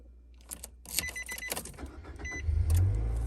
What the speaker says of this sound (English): let's just go ahead and turn on the van